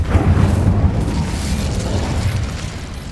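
Incendio fire spell cast in Hogwarts Legacy, a loud whooshing burst of flame that roars at the start and then fades into a crackling rumble.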